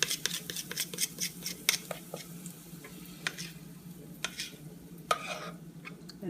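Cornbread batter cooks in hot grease in a pan, a low steady sizzle broken by sharp clicks and scrapes of a utensil at irregular intervals, with no one speaking.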